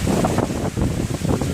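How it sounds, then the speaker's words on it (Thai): Strong storm wind buffets loudly and continuously, roaring and gusting in rapid surges across the whole moment with no speech. "ลมพายุตามมาด้วยฝนพร้อมกับลมพายุ"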